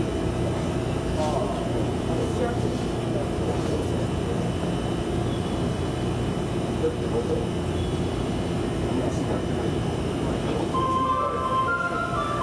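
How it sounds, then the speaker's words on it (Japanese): A 521 series electric train on the IR Ishikawa and Hapi-line Fukui line between Kanazawa and Tsuruga pulls away and runs on the rails. A steady, loud rolling rumble with a motor whine fills the clip, and a voice is faintly heard over it. "発車後しばらくいたしますと列車が左右に揺れます"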